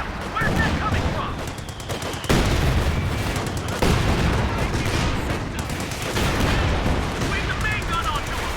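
Rapid gunfire and heavy weapon blasts from a Company of Heroes 2 battle, a USA side in a 3v3 match, pound continuously at close range with repeated sharp bursts, while shouted voices call out over the fighting.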